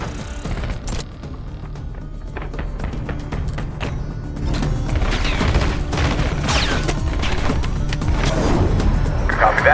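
Heavy, rolling explosions and dense battlefield gunfire from a mortar strike in Call of Duty Black Ops 6, a constant loud barrage that swells further in the second half.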